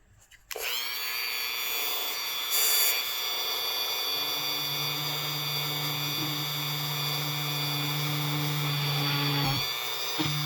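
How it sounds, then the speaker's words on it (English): A power drill drilling holes whirs steadily and loudly for several seconds, its motor pitch shifting slightly as it bites into material, with brief changes in load near the end. "I'm going to drill these holes out real quick"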